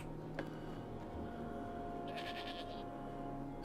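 Wild sheep bleating in a video game: a short, faint, wavering bleat sits partway through over a steady low game hum, with no voices.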